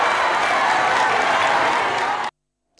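A public crowd at a Congolese military trial cheers and applauds an acquittal, a dense, loud wash of clapping and shouting voices that stops abruptly into silence.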